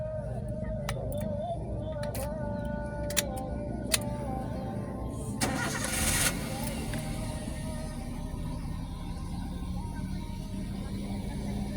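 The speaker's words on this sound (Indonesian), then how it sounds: "Coba starter lagi." A manual-transmission car being started during a driving lesson: a short, loud cranking burst from the starter, then a steady low engine rumble with faint background noise.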